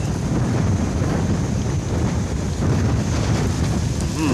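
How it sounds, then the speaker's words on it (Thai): A cool wind blows steadily across the microphone at a hilltop temple, Wat Khao Sukim in Chanthaburi. It is a loud, continuous low roar with no break and no voices. "โอ้ลมเย็นนี่ครับลมเย็น"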